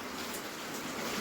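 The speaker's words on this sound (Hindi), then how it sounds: "बारिश चल रही है भाई आज" Steady rainfall hisses evenly and continuously, a dense wash of drops close by with no breaks and no talk over it.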